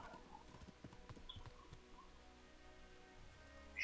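Horse hooves clip-clop in an irregular trot in the video game Kingdom Come: Deliverance, faint and close, fading toward the end.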